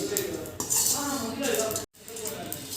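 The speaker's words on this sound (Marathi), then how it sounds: "हे एकत्र आपल्याला भाजून घ्यायचे याला आपण तेल घालणार नाही आहे" Cloves, caraway and cinnamon are dry-roasted in a pan without oil for Solapuri kala masala. A spatula scrapes and clinks steadily against the metal, close up, with a brief pause near the end.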